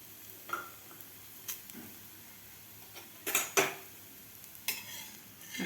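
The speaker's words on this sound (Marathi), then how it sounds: "आता आपण हे सुद्धा व्यवस्थित अशी भाजून घेऊया दोन्ही साईडकडून यावरून सुद्धा आपल्याला तेल लावायचं आहे" Sweet dashmi flatbread made with milk roasts in oil on a pan over medium heat, giving soft sizzling with scattered scraping and clinking of a spatula against the pan, a few louder scrapes standing out.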